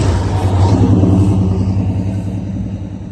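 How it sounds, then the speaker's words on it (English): A fire truck's heavy engine rumbles loudly close by as it passes, a steady low roar that holds strong before slowly easing off at the end. "here comes a fire truck"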